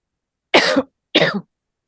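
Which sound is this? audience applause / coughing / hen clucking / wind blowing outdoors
coughing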